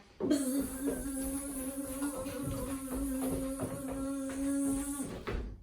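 A continuous droning buzz holds steady for several seconds, like a voice imitating bees, fairly loud and uninterrupted.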